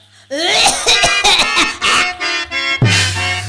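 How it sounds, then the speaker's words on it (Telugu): Bursts of coughing and laugh-like vocal sounds follow one another in a Telugu stage play, loud and close, with short pauses between. "దగ్గు దగ్గు"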